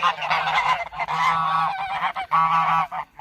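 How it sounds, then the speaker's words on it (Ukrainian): Several geese honk loudly and close by in repeated overlapping bursts, nasal calls coming in quick waves. "Ось такі ось гуси. Це гуски."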